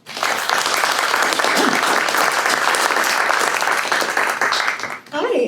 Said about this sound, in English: please join me in applauding Tishani's Egrets While War